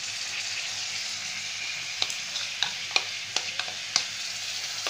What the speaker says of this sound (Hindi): दही को भी अच्छे से हम भून लेंगे मसालों के साथ